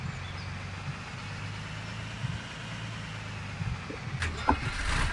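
A tractor engine in Farming Simulator 2013 runs at a steady low idle-like drone, close and continuous, with a few faint clicks near the end.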